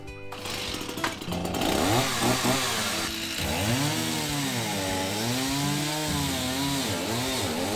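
A chainsaw cuts through the wood of a staircase in a 40-year-old house during demolition for a stair replacement. The engine is loud and close, revving up and down in long rising and falling sweeps with no pauses.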